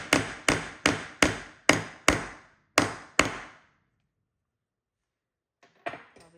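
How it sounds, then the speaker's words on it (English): Metal hammer repeatedly striking a grommet setting tool into canvas for a DIY ATV trailer cover: eight sharp, loud, evenly paced blows with ringing decay, then silence and a few faint handling taps. "and then we hammer it"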